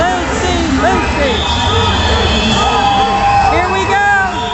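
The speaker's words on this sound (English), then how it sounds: "And the crowd is chanting Lucy, Lucy, Lucy." Roller derby arena crowd chanting a skater's name in rhythmic repeated calls, a steady roar of many voices with whoops, heard under a close announcer's voice.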